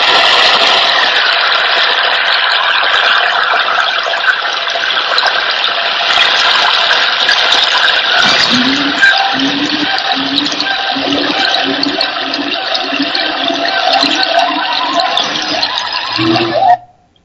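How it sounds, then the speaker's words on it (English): Generated soundscape of a Thailand waterfall, a loud, continuous broadband roar of rushing water, with a rhythmic pulsing pattern appearing in the second half before the sound cuts off abruptly at the end. "if I enter a request like a waterfall in Thailand"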